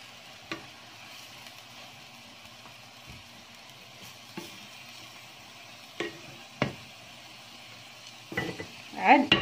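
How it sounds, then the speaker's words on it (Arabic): Onion and pepper fry in a pan with a steady, soft sizzle, broken by a few sharp clicks and clatters of stirring that grow busier toward the end. "ملي كنشحروا البصله والفلفله"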